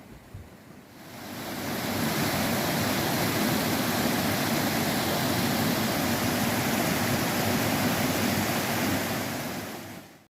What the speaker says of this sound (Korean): 등산로를 따라 들려오는 시원한 물소리는 우리의 마음도 가볍게 만들어줍니다.